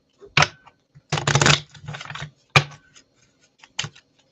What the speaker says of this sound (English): I'm gonna shuffle for a minute.